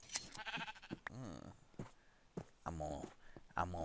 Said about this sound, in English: Because I see a sheep, and you know what that means.